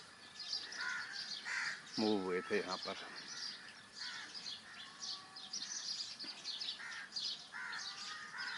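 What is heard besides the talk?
birds chirping and crows cawing outdoors in Lahore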